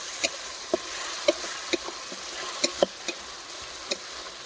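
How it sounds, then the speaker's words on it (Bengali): Ground coriander and dried chilli powder with a little water being sautéed and stirred in a pan, a soft continuous sizzle broken by irregular scraping clicks of the spoon, close and moderately quiet with no talking. "এখন মশলাগুলোকে ভালো করে ধীরে ধীরে কষিয়ে নেব।"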